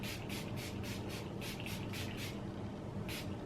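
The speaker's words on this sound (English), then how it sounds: "I'm going to use the Milani Make It Last setting spray, which is more of a matte one." Milani Make It Last matte setting spray fires from a pump bottle in a rapid series of about nine short, crisp hissing spritzes close up, then a pause and one last spritz. No one talks.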